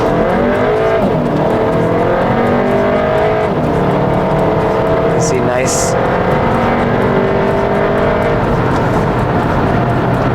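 A Volkswagen Alltrack's four-wheel-drive TSI engine revs up and accelerates with a rising, steady drone, loud and close, while someone talks over it.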